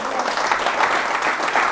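A church congregation applauding during a sermon, a dense, steady wash of clapping from many hands, loud and continuous with faint voices mixed in.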